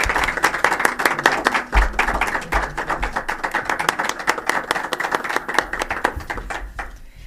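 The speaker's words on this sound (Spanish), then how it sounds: "les pediría un aplauso nuevamente para el doctor Gabriel Herrera por su trabajo." Applause at a Maya philosophy book presentation for Dr. Gabriel Herrera, dense, fairly loud clapping from a seated audience lasting several seconds, with individual claps standing out near the front.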